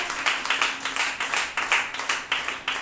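Church congregation clapping hands in rhythm during a Sunday service, a steady regular beat of claps at moderate loudness with a faint hum beneath.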